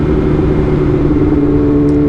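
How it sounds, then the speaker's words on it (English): A BMW M1000RR motorcycle engine revving, a loud, close, steady mechanical tone with strong harmonic whine holding evenly for a couple of seconds, with no talking. "There's something about this engine, the way it revs, the way it feels,"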